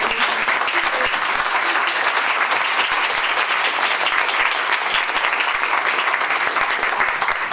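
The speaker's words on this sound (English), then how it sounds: "let's give one more round of applause for our" Steady, dense applause from an audience at a women's business event fills the room, loud and continuous without a break.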